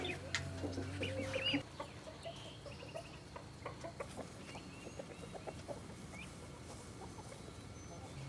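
Chickens cluck softly and intermittently in the distance over a steady outdoor background hum, with one longer call near the start.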